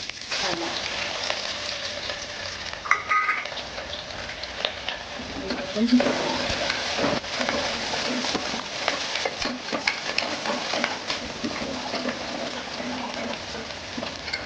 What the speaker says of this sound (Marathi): तेल गरम झालं तर थोडा जिरा टाकायचा जिरा टाकला